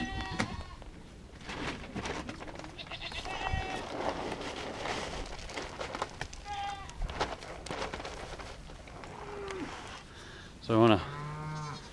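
Cattle on a farm moo repeatedly before feeding, several calls near and far overlapping in a busy livestock scene, with one loud close bellow near the end.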